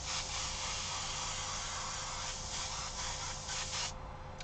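A steady, close hiss of an airbrush spraying black paint through a stencil onto a trucker hat, with brief pulses near the end and no talking.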